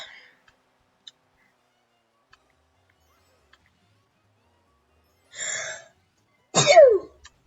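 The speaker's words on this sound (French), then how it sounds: "Ah mais c'est pas possible, j'ai le droit de tousser." A single short cough bursts out after a faint tick or two, followed moments later by a louder, harsher cough with a throaty rasp, then quiet.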